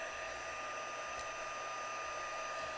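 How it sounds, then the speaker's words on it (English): An embossing heat tool runs at a steady, quiet whir, a constant airy hiss with a faint motor hum, unbroken at a low level throughout. "this heat tool gets super, super hot"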